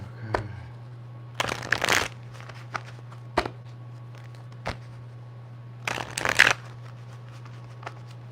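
Tarot card deck being shuffled by hand in bursts of riffling and sliding, separated by sharp taps and pauses, close up over a steady low hum.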